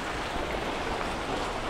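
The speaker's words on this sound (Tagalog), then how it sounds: "Grabe, walang tigil ang ulan na yun oh." Heavy, nonstop rain pours down in a dense, even hiss, loud and close, with no voices heard.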